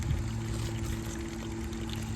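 Spring water in Bethel Springs, Tennessee, trickling and pouring steadily and close by, a continuous wet splashing wash with no voices.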